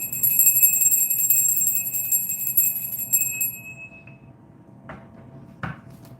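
A hand bell rings in a sustained, shimmering run of high tones that fade after a few seconds, followed by two soft knocks or taps in a quiet room.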